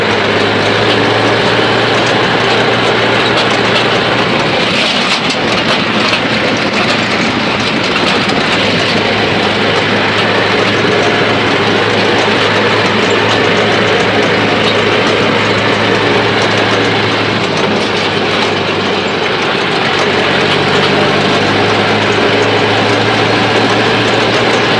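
Tractor engine running hard in a farm field, a loud continuous low rumble with steady droning tones throughout, close and unbroken, no talking.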